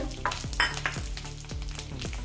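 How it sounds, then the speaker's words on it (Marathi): Curry leaves frying in oil in a pan as garlic and roasted sesame seeds go in, giving a steady close sizzle with stirring scrapes and occasional soft thuds repeating about every half second. "आता याच्यामध्ये आपण हा लसूण टाकून देऊया। भाजलेले तीळ टाकून देऊया।"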